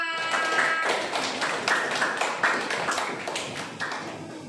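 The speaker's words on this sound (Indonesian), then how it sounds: "Oke, tepuk tangan untuk kita semua." Classroom students clapping together, a steady dense patter of many hands with scattered sharper claps, fairly close, without talk.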